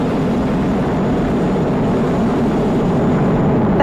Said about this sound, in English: Falcon 9 engines now throttling down to help pass through the period of maximum dynamic pressure.